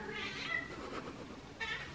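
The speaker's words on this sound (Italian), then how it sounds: "Tieni gatto Denver! Vai gatto Denver" A domestic cat meows twice, close by and fairly quiet, with a short gap between the two calls and a soft, continuous indoor background beneath them.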